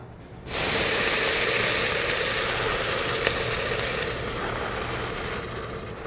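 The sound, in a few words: stock poured into toasting rice, sizzling in the pot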